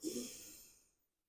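A single slow breath during a yoga stretch, soft and close, swelling quickly then fading out over about a second.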